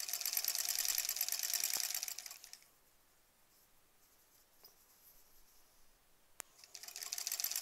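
A sewing machine stitches quilt block pieces with a fast, even mechanical whir, stops for a few quiet seconds, then starts running again.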